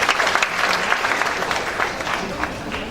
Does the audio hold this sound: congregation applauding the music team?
yes